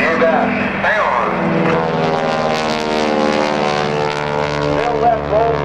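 A 600-horsepower propeller airplane flies at the 2009 NAS Oceana airshow, its engine drone loud and steady with a shifting pitch. A voice talks over it throughout.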